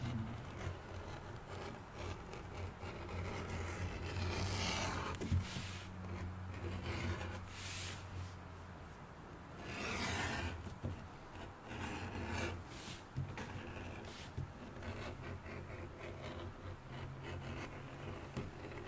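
Steady scraping and rasping as a beveling tool runs along the edge of a leather holster for a western cowboy fast draw rig, repeated strokes close up, with a low hum underneath.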